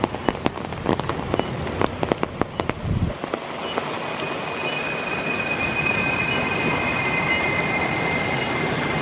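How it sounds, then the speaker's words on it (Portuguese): Heavy rain falls in a forest. The first few seconds carry scattered sharp drips and taps. After that the downpour settles into a dense, steady hiss that gets slightly louder toward the end. No voices are heard. "Tô ouvindo barulho no mato? Escuta. É chuva."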